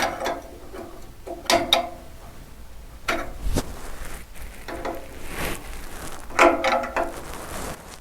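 A 22mm spanner nipping up a lambda sensor on a Lotus Evora exhaust, heard as a few close metallic clicks, ratcheting taps and scrapes in short bursts against a soft workshop background.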